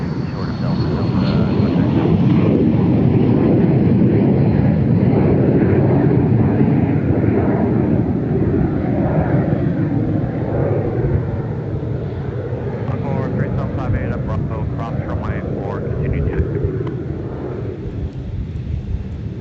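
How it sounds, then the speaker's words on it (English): A business jet departs the crosswind runway at MSP Airport with a loud, sustained roar of jet engines that slowly fades and thins as the aircraft climbs away. "Here's that BizJet departure"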